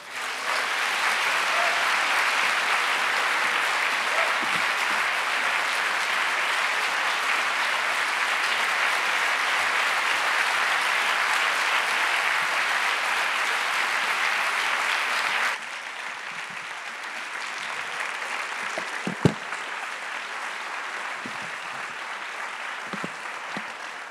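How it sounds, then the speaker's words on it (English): Audience applause at an evening book presentation, sustained dense clapping from a large crowd for about fifteen seconds, then dropping to thinner, quieter applause with a few isolated claps and knocks. "A perfectly timed applause."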